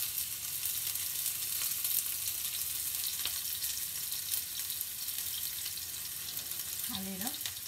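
Onion fries in a pan with a steady, dense sizzle that holds throughout, close and moderately loud, with a brief faint voice-like sound near the end.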